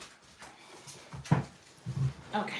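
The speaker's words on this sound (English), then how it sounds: "You might hear some dogs in the background." Dogs whimper and whine faintly in the background of an indoor room, a few short soft cries, with a brief quiet spoken word.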